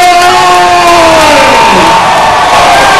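Crowd at an MMA title fight cheering and shouting loudly, a dense roaring wall of voices with whoops rising and falling, very close and saturating.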